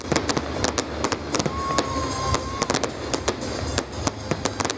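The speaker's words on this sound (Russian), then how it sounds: "Залпы праздничного салюта не смолкали длительное время, а небо озаряли яркие огни." Festive salute fireworks at a city birthday celebration in Armavir fire a rapid, continuous barrage of sharp cracking bursts and bangs, loud and unbroken, with no talking.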